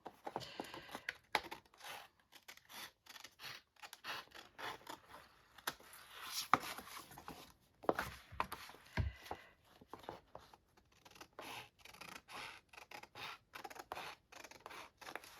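Repeated snipping and crisp cuts of scissors through paper, with rustling and handling noises between, close up and fairly quiet.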